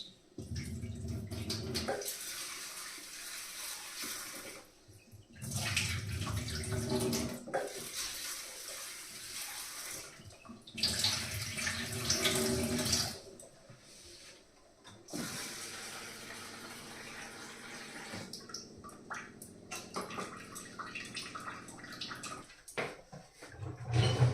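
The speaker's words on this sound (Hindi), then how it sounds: "दाल को 2-3 पानी से धो करके भिगो देती हूँ फटाफट" Lentils (dal) are washed and soaked in water, giving several bursts of running and splashing water separated by short quieter pauses, close and fairly loud, with no talking.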